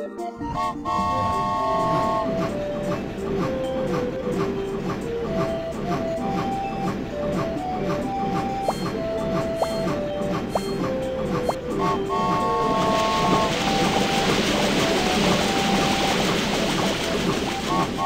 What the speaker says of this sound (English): The little choo-choo train has a long body.